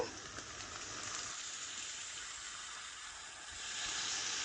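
Potatoes fry in oil in a pan over medium-high heat, a dense continuous sizzling hiss at moderate volume that swells slightly toward the end, with no talking.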